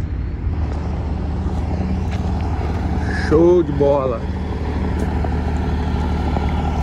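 A tall carreta truck rolls past in a watermelon truck yard, a steady low engine rumble that swells briefly in the middle while someone speaks a few words over it.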